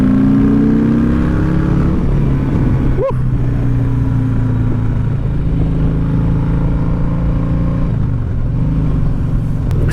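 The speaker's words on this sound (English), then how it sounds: "Straight away, the bike has a slight different tone under load." A Harley-Davidson Sport Glide fitted with a Redshift 468 cam roars on a dyno in third gear from about 2,700 rpm, a loud, close, steady engine drone rising gradually in pitch as the throttle rolls on.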